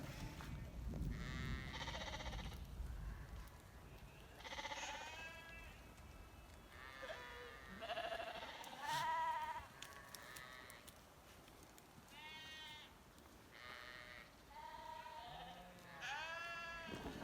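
Sheep bleat repeatedly along a mountain trail, several animals calling in overlapping, wavering cries at moderate distance, fairly faint over open outdoor ambience.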